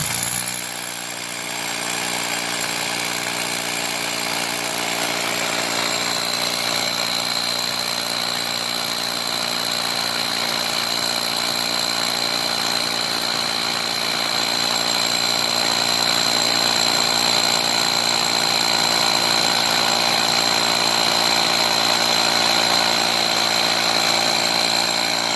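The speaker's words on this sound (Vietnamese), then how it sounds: "Với cái buổi khoan bê tông 10 ly mà nó khoan vậy là tuyệt vời." A Japanese-market cordless hammer drill bores a 10 mm hole in concrete, giving a loud, steady, high-pitched whine with rapid hammering buzz that runs continuously and unbroken for the whole stretch.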